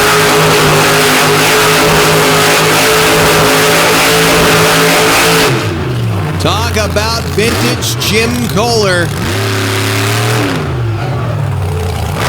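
Truck engine at a Benson, North Carolina night motorsport event, a loud steady mid-pitched drone that drops and swells as the throttle is worked, with an announcer talking over it.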